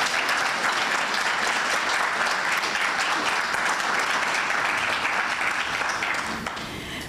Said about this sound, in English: I think we can do better on the applause.